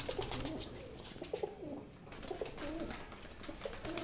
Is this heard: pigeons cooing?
yes